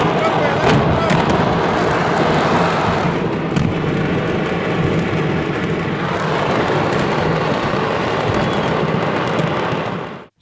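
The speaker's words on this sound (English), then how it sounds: "The incident was attributed to the mishandling of fireworks, which led to a chain reaction of explosions." A chain of fireworks explosions tears through a fireworks market, producing a dense, loud, continuous roar of blasts and crackles that lasts several seconds before cutting off abruptly.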